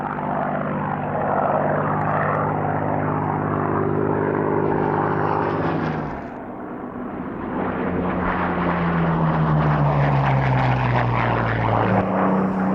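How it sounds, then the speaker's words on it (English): A Supermarine Spitfire Mark 1A in 609 Squadron markings at an airshow, its piston engine and propeller droning loud and steady, with a brief dip in the middle before the roar builds back up. "Another of the oldest surviving Spitfires is this Mark 1A"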